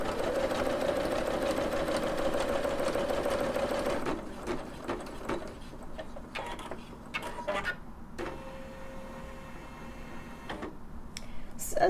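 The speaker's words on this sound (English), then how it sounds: "I'll click OK on the screen, and I'll push start stop to keep going." A SINGER Legacy SE300 embroidery machine stitching, a fast steady mechanical whir and tapping rhythm, close and continuous, becoming quieter and more broken with clicks partway through.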